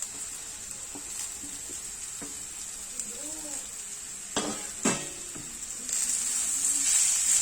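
Chopped potato leaves dropped into hot spiced chili in a pan, a steady hiss of frying with clinks of a spoon stirring against the pan, the sizzle swelling louder toward the end.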